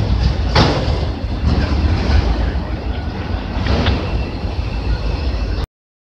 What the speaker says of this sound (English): We got CP-135 departing the London Quebec Street Yard.